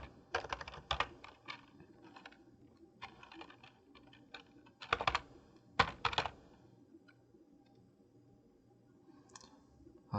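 A computer keyboard is typed on in quick clustered bursts of close, crisp key clicks separated by short pauses, with no talk.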